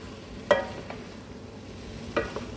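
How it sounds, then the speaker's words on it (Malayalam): A spoon stirs Kerala-style beef roast in a pan, making two distinct scraping strokes about a second and a half apart over a faint, steady sizzle. "നമുക്ക് നന്നായിട്ട് ഇളക്കി കൊടുത്തുകൊണ്ടേ ഇരിക്കും"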